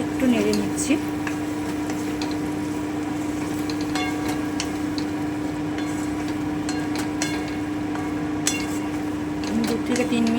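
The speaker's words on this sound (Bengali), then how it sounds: "এবারে আমি ভেজে রাখা আলুটা দিয়ে দিচ্ছি" Fried potatoes go into a pan of sautéed spice masala for aloo dum, with a steady sizzle under repeated scraping and clinking from stirring, sharper clicks scattered throughout.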